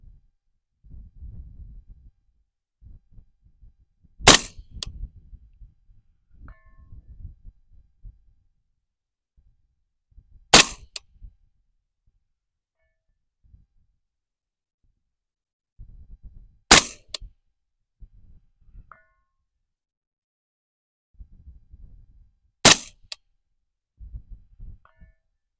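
A 6mm ARC AR rifle is fired at long range from a tripod outdoors: four sharp, loud shots ring out about six seconds apart, with low rustling and handling noise between them.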